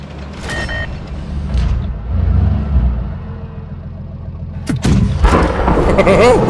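Heavy tank cannon fire in WoT Blitz, with loud booming shots near the start and a sharp blast near the five-second mark over rumbling engine noise.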